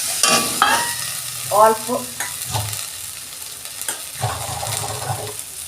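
Spice paste with Kashmiri chili powder stirred and frying in a pan for a Bengali fish-roe dish, a steady close sizzle broken by scraping spatula strokes, with brief speech at one point.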